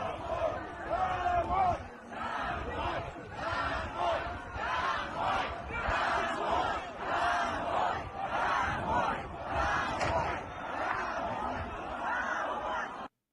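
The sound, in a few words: angry protest crowd shouting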